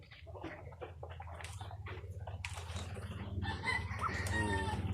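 Pet chickens and small chicks cluck and peep nearby in a farmyard, a busy overlapping chorus of short calls that thickens toward the end with shrill chirping over a low background hum.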